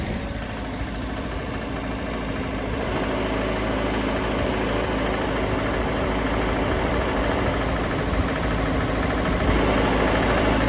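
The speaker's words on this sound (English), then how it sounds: "So I was taking my foot on and off the clutch. So that's the PTO working." A Mitsubishi D2650FD tractor's diesel engine runs with the PTO engaged, a loud, steady close-up drone that swells slightly and holds a dense rumble throughout, with no talking.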